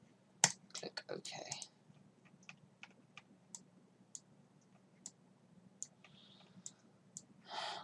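Sharp mouse clicks and light keyboard taps come from a computer running Rhino 5 while modelling a guitar neck, scattered single clicks close and crisp in a quiet room.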